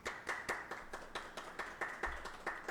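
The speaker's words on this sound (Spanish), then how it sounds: "les pido un fuerte aplauso para la ponente" A small group claps for a speaker after a lecture, giving about a dozen sharp, evenly spaced hand claps that sound faint and thin.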